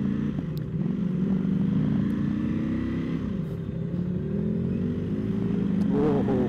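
Motorcycles on an evening group ride with friends in Tokyo, engines droning and revving with rising and falling pitch as they accelerate away, loud and close throughout.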